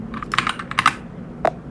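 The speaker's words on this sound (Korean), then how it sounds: "엔터키를 한번 눌러보도록 하겠습니다." A computer keyboard clacks with a quick cluster of key presses, then after a short pause comes one firm, close Enter keystroke. The sound is crisp and near, with no talking.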